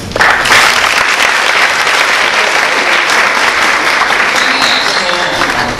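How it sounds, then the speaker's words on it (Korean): Loud, sustained applause from a concert audience, greeting Hyundai Motor Group guests, dense clapping filling the whole stretch without a break. "현대자동차 그룹 분들께 박수 한번 주세요."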